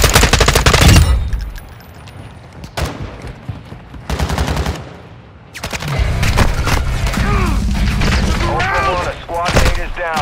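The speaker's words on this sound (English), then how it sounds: "You are taking effective fire." Gunfire in Call of Duty DMZ rattles in loud rapid bursts of automatic shots, with short pauses and sustained fire, mixed with game sounds and a voice talking.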